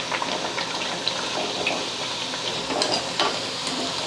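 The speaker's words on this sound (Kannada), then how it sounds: "ನಾನು ಮೀಡಿಯಮ್ ಫ್ಲೇಮ್ ಇಟ್ಕೊಂಡು ಫ್ರೈ ಮಾಡ್ಕೊಂಡೇನಿ ರೀ" Crisp rice-flour cabbage vadas fry in oil over a medium flame, making a dense, steady bubbling sizzle with occasional crackles and pops close by.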